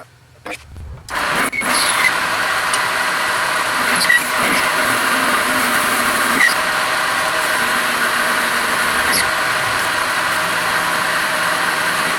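A lathe starts and runs in reverse while turning the outside of a drill bit, a sudden motor start-up followed by a continuous steady hum with occasional small knocks, close and loud.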